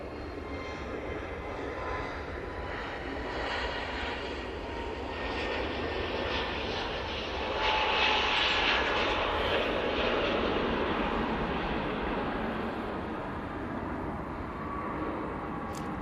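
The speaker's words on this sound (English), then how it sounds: "Jet2 A321 Neo now on the roll." A Jet2 Airbus A321neo roars steadily down the runway on its takeoff roll at Manchester Airport, a continuous broad engine rumble heard from a distance that swells slightly midway and holds loud throughout.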